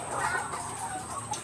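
Hens clucking on an RTL chicken farm with cages of laying birds, a steady close chorus of overlapping clucks and soft calls running continuously without pause.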